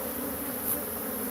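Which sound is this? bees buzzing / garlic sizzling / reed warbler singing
bees buzzing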